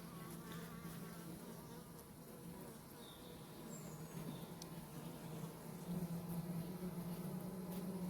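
Honey bees swarm over a hive frame where a queen is moving about, giving a continuous close buzzing hum that swells slightly toward the end, with no voices.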